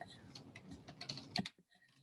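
Quick, light keystrokes on a computer keyboard while writing CSS code, clicking in a brisk irregular patter up close and quietly, then stopping abruptly, with a soft voice under it.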